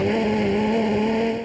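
A Superleague Formula race car with no grip or balance, its engine holding a steady high whine with a tire squeal as it slides, loud and close for a brief moment.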